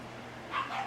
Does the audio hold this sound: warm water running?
no